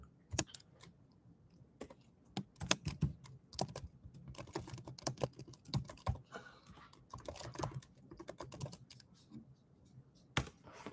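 Typing on a computer keyboard, irregular bursts of sharp close clicks and clacks with pauses between, quiet overall and with no talk.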